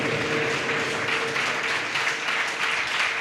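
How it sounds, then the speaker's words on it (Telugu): A church congregation at a Holy Communion service applauds, a dense sustained wash of many hands clapping loudly and evenly throughout, without speech. "కొట్టు చప్పట్లు, బిగ్గరగా కొట్టు."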